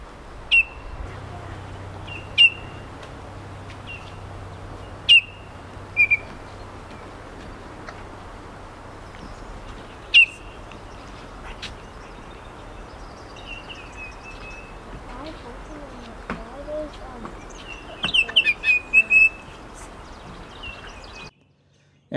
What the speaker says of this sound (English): Baltimore orioles were singing all over the place